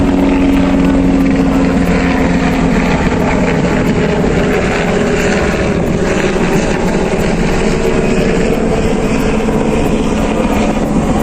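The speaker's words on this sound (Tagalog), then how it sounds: "Helicopter." A helicopter flies over Tel Aviv, its loud, continuous rotor and engine drone filling the entire stretch without a break.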